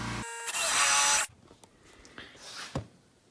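Power drill whirs loudly for under a second as it pre-drills into wood, then stops, followed by light handling and tapping noises nearby.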